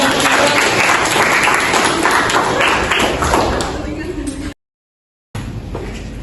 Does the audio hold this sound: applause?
yes